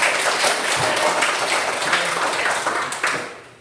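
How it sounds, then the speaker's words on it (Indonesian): Classmates in a lesson give a round of applause for a student after a group presentation, steady clapping from a small group that stays close and fairly loud before tapering off. "Oke, tepuk tangan untuk Robert"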